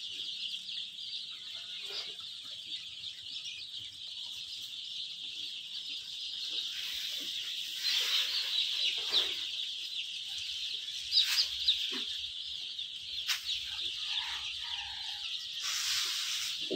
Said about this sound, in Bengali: দেখেন হারুন ভাই এই মুরগির খাদ্য দিচ্ছে, বাচ্চাদের খাদ্য।